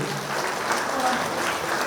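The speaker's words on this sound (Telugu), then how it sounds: "ఒకసారి గట్టిగా చప్పట్లు కొట్టండి" An audience at a Sunday gathering in Nizamabad claps loudly. The applause is dense and steady and fills the whole stretch without a break, with no voices over it.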